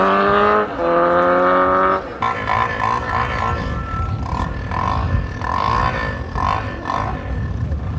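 A motorcycle engine sound effect plays from a bicycle, first a sustained revving drone that steps up in pitch, then a rougher, pulsing engine roar that keeps surging.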